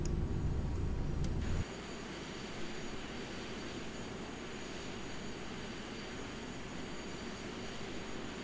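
A jet airliner's engines in Microsoft Flight Simulator X give a steady broadband roar during the descent toward the runway, louder and lower for the first second and a half, then settling into an even, continuous whoosh.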